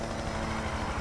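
Steady low rotor drone of a helicopter in the video game Need for Speed Payback, a continuous rumbling beat with broadband noise, held at an even level without any talking.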